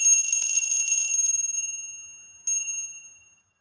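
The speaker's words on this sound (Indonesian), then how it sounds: "di sini akan meramal kartu remi ditandai dengan lonceng berbunyi." A small bell rings to mark a playing-card fortune reading, a bright tinkling ring that decays, then a second shorter strike that rings out and fades, close and alone.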